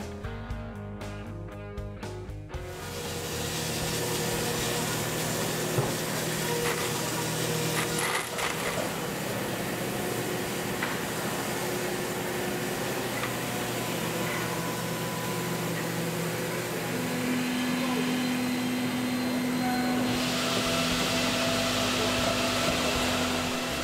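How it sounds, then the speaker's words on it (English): A CNC milling machine cuts corner radius jigs one at a time, its steady broadband machining roar running continuously and loud from the third second onward with a whine rising near the end, no voices. "The operator then dials in a program that machines the jigs individually, focusing the milling operation on quality rather than quantity."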